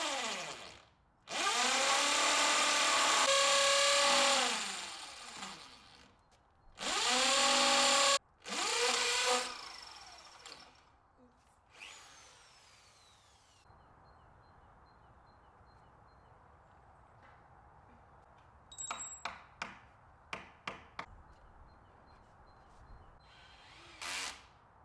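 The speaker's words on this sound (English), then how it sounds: "trying to drill into the brick was such hard work" A power drill whirs in several loud bursts into brick, with pauses between, followed by quieter clicks and tapping.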